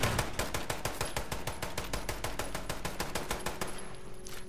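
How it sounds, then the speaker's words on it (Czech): Rapid automatic gunfire in the video game Fallout 76 rattles in a steady stream of evenly spaced shots for several seconds, tapering off at the end. "Ten s tím střílí, jako kdyby ty náboje dostával jen tak zadarmo někde."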